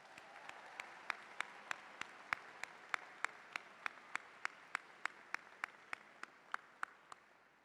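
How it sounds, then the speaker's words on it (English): Steady applause from an audience at an arts school graduation ceremony in a music hall, with sharp rhythmic claps standing out over the dense crowd clapping throughout. "Let's give them another round of applause."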